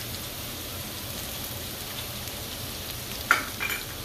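Butter fries in a pan while cooking potatoes, giving a steady, close, hissing sizzle throughout, with a few small pops near the end.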